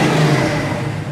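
A 1969 Camaro with a small-block 350 V8 and dual exhaust revs loudly and close up, one sustained throaty burst that eases slightly, with no talk.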